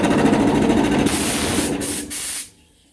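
Compressed air from a Samborn air compressor rushes out through its opened reducer valve in a loud, close hiss that brightens, briefly sputters, then cuts off abruptly, leaving near silence.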